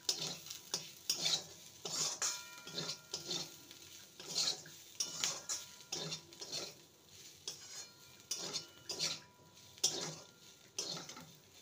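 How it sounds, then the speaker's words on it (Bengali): Potato and sattu filling stirred with chopped coriander in a pan, a steady run of scraping, clinking spoon strokes against the metal at a brisk rhythm, close and fairly quiet with a faint sizzle beneath, no talking. "এবার সবার শেষে দিয়ে দেবো ধনেপাতা কুচি। ভালো করে মিশিয়ে নিলেই এটা রেডি"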